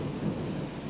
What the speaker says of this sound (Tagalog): Ang lakas ng thunderstorm at saka ng lightning or kidlat